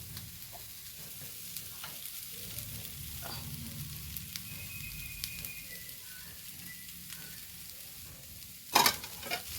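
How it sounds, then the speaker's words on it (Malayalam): Prawns and jackfruit seeds fry and get stirred in a pan, a steady close sizzle with scraping spatula strokes throughout, then a brief louder clatter near the end. "ഇനി ഇതിലേക്ക് നമ്മൾ വറുത്തെടുത്ത് വെച്ച് ചെമ്മീൻ ഇട്ട് കൊടുക്കാം കേട്ടോ"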